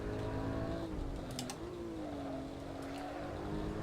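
A Porsche Cayman driven at the Red Bull Ring, its engine holding a steady droning tone that dips and recovers as the car shifts or lifts, continuous and fairly close.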